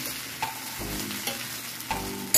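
A spatula stirs eggs into shrimp fried rice in a pan with the heat just turned off, making a few quiet rhythmic scraping strokes over a soft sizzle, with no talking.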